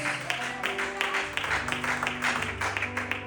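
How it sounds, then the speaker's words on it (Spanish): Applause from a church congregation during a sermon, a steady wash of many hands clapping with faint tonal music held underneath, moderately loud and continuous throughout. "Alguien le dé un aplauso al Señor Jesús."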